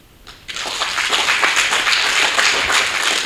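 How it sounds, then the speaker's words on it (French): At the closing of an assembly session, a hall full of people breaks into sustained applause, dense and loud, with many hands clapping close and far, continuing steadily after a sudden start. "Je voudrais nous permettre de nous applaudir."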